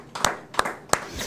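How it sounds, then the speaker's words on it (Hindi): Three sharp hand claps at a Hindi poetry gathering sound at an even, unhurried pace, close by, with a fourth just starting at the end. "एक बार अभिनंदन करें जोरदार तालियों से"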